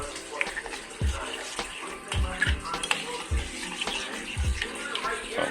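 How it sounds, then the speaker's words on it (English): Homemade chicken noodle soup stirred in a pot, with a spoon knocking and scraping the pot in a loose rhythm of dull thumps among sloshing liquid. "Get that stirred up."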